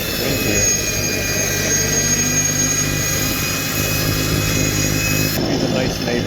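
A snowblower running outdoors, a loud steady engine drone with a whining tone that holds throughout, shifting slightly near the end.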